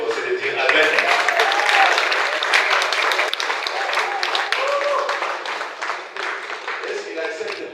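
Audience applauding at an event, a dense steady wash of clapping that holds for several seconds, with voices mixed in, then thins slightly toward the end.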